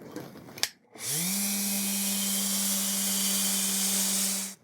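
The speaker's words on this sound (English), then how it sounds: "you just use the sander just to get everything smooth" A power sander spins up after a brief knock and runs with a steady whirring hum and broad hiss as it smooths a wooden solera to an even radius, loud and close with no talk.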